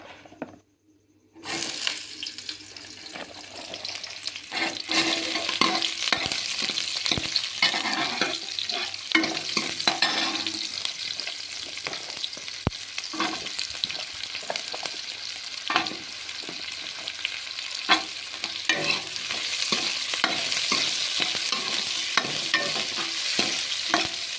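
Cumin seeds and onion dropped into hot oil in a pan, a sudden burst of loud, dense crackling sizzle that keeps bubbling steadily, with occasional stirring scrapes and no voices.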